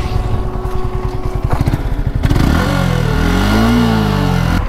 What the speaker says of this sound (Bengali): আর বাইকের যেন কি একটা শব্দ হচ্ছিল, শব্দটা চেক করে দেখি ভাই।